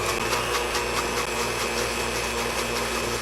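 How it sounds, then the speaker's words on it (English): KitchenAid Ultra Power blender on the chop setting mixing raspberry sugar-free gelatin with boiling water, a steady, loud motor whir with a constant hum beneath it. "Cover the blender and push chop for about 1 minute before adding the other ingredients."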